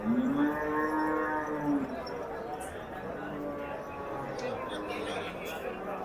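Gir breed cattle at a Sunday livestock market in Dabwali, one loud near moo rising and falling at the start, then more lowing and crowd chatter behind talk.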